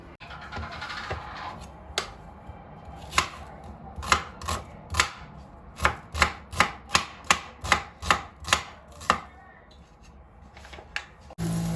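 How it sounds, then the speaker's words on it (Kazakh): A knife chops sausage into rounds on a board, with a few scattered cuts and then a quick, steady run of about a dozen sharp, close knocks, followed by a brief pause. "сосискамызды осындай дөңгелек етіп турап аламыз"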